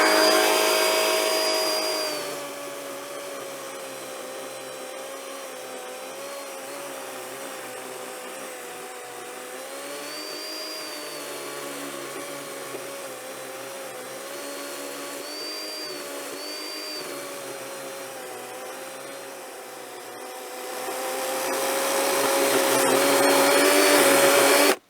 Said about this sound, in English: Got the battery operated chainsaw.